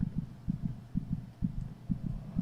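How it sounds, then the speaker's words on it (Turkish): Rapid heartbeat sound effect in Minecraft, a steady double-thump pulse repeating quickly and evenly, soft and low-pitched with nothing else over it. "kalp sesleri hızlandı"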